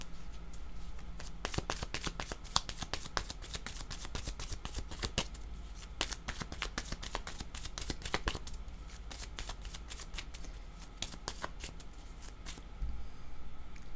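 Playing cards are shuffled for a card reading in a rapid, steady run of crisp riffling clicks lasting most of the stretch, close and fairly loud over a low background hum, with no talking.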